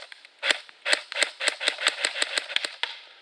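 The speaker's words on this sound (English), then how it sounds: "So that's a single shot" A Cyma airsoft gun fires on single shot, a rapid string of about a dozen sharp, close plastic cracks in quick succession, with no talking.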